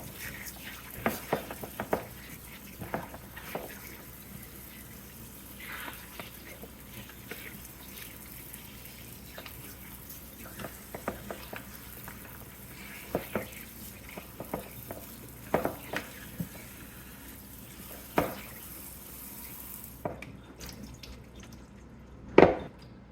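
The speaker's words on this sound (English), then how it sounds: "I'm going to get these washed off" Roma tomatoes rinsed under a running kitchen faucet, with steady soft splashing and pattering water, scattered drips and light handling noises, fairly quiet and close, ending abruptly in near silence.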